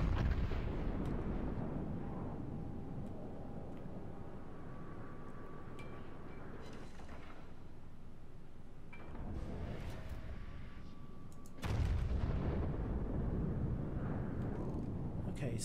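Warship artillery salvos in World of Warships, deep rumbling gun blasts booming out at intervals with a sustained roar between them, the loudest burst near the end, while someone talks over the action.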